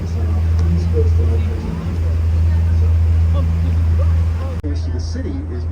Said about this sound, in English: ours have those big diesel engines banging away in their engine rooms